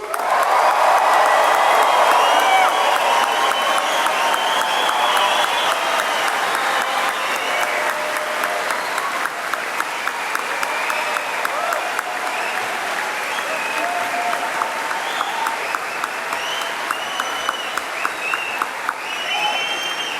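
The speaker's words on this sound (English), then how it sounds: "Well, that proves you can cheer" A large crowd at a 2016 NTU graduation ceremony cheers and claps loudly and continuously, a thick roar of applause with whoops layered in. It slowly thins to sparser, individually audible claps toward the end.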